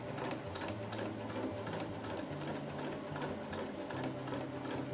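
Sewing machine stitching Hyper D ripstop fabric for an ultralight hammock, a steady close whirring drone with a fast stitching rattle that holds an even pace throughout.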